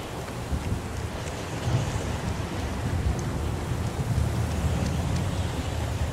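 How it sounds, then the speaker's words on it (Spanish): Heavy rain pours in the video game Heavy Rain, a dense, constant wash of falling water with a low rumbling undertone, steady and moderately loud throughout with no one speaking. "Es increíble lo que llueve."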